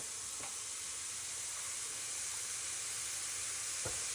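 Morel mushrooms sizzle in a pan for a breakfast omelet, a steady soft frying hiss at low level with a couple of faint clicks of a utensil, no voices.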